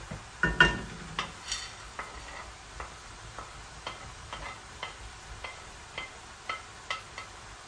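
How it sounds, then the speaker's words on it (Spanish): Meat cooking in a pan with onion and green and red peppers, stirred in slow, regular strokes. Soft scraping clicks repeat about twice a second over a faint, low sizzle. "lo sofreímos un poco y le pondremos la carne"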